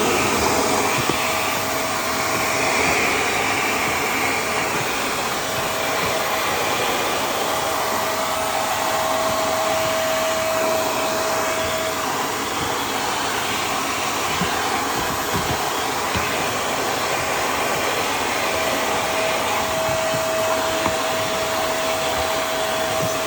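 A Black and Decker VM1480 1480W vacuum cleaner runs continuously close by, a loud steady whooshing roar with a constant high whine that holds without a break.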